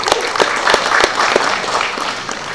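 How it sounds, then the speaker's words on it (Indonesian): An audience at a university public lecture breaks into applause, a loud, dense stretch of clapping that holds steady for a couple of seconds. "Jangan tepuk tangan dulu."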